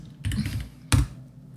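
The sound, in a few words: typing Java code on a computer keyboard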